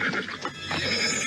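A horse pulling a carriage whinnies loudly and close, one drawn-out neigh standing alone over a steady low rumble of the moving carriage.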